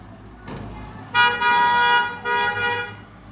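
Two long honks from a vehicle horn outside, the first about a second long and the second shorter, loud over faint room noise.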